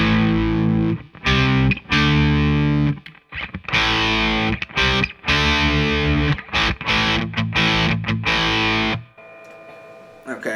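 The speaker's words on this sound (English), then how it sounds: "So this is what distortion sounds like." An electric guitar plays through an amp's distortion channel, loud, heavily saturated chords in choppy bursts with short gaps, ending on a sustained ringing note.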